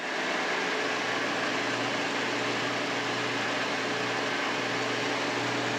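A compact strip sander's electric motor runs at constant speed, a steady loud whirring hum with no change throughout and no talk.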